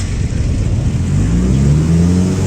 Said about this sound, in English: And look at that, the engine is nice, and it's fully started.